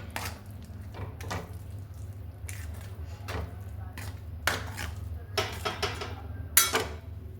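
A spoon scrapes and knocks against a pan while stirring a besan pithla mixture, making irregular clinks and scrapes over a low background hum, up close.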